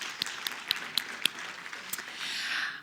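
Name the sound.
audience applauding the Minister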